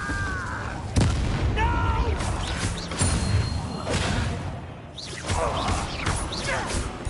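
Incendio fire spell cast in the video game Hogwarts Legacy, a loud booming burst at about one second followed by whooshing magical impacts and crackle over a dense, busy game soundscape, with a voice heard in places.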